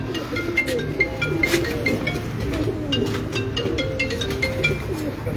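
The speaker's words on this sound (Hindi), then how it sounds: "और ये हैं लाल परी कबूतर" Lal Pari breeder pigeons, a hen among them, coo on a rooftop loft in a steady low murmur of repeated calls, with faint chirps and a voice talking briefly nearby.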